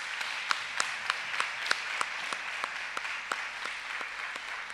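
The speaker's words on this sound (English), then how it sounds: "Let's give a round of applause for our 2nd grade speech meet qualifiers." School chapel audience applauding second-grade speech meet qualifiers, a soft steady patter of clapping with a few sharper individual claps standing out at a distance.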